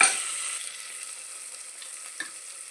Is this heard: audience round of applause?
no